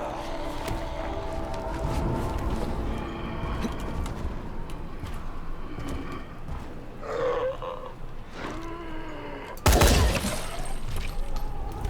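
Gunfire in the zombie open-world action game Dying Light: one loud, sharp shot bursts out near the end over a steady bed of game noise, with growls and other scattered effects.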